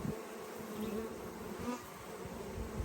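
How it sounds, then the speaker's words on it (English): Honeybees buzz densely at a hive during a package set-up, a thick, continuous swarm drone close to the listener, steady and unbroken with slight swells. "That is a scouting bee."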